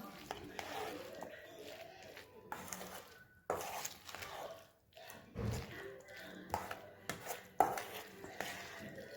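Paneer cubes get cut into small pieces with a knife, producing intermittent close knocks and taps on a board amid clinking utensils while someone talks.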